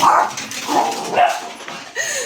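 Dogs bark several times indoors, a series of close, sharp barks and yips with a whimpering rise at the end.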